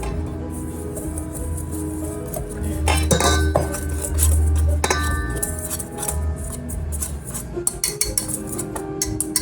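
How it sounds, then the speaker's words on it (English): Dry ingredients with baking powder are whisked in a bowl for lemon biscotti, giving steady metallic scraping and clinking of the whisk against the bowl, close and fairly loud, with a few sharper clinks, no talk. "Whisk those together."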